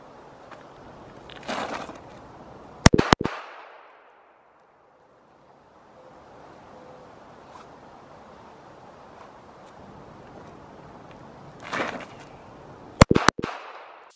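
A Glock 42 pistol fires sharp double cracks, two quick pairs of shots, with wind noise and a quiet gap between them.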